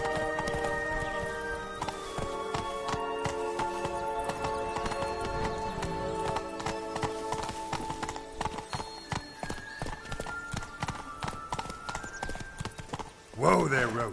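Roach the horse gallops in The Witcher 3, a rapid drumming of hooves running throughout under tonal music and talk, ending with a loud close neigh.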